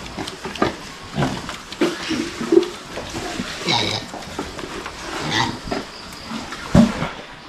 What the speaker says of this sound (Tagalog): At ito yung mga natural lang natin na baboy.